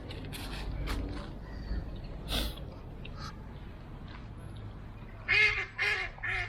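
Ducks and geese crowd in for food in a small village setting, their quacks and honks coming in a loud close burst near the end over steady outdoor background noise.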